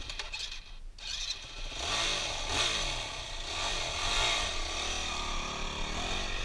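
Motorcycle engine running and revving steadily up close, with a rough low drone and gritty mechanical rasp that rises and falls across the clip, no talk heard.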